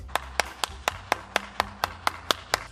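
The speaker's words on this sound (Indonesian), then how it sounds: "tepuk tangan." Ten evenly spaced hand claps ring out in a steady rhythm, fairly sharp and moderately close, with a faint low hum underneath and no talking; the claps are too uniform to confirm a group of children.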